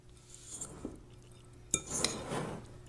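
Egg mixture and cheese tossed quickly in a bowl for a breakfast pizza: soft scraping and light clinks of a utensil against the bowl, quiet and close, with a brisker clatter near the end.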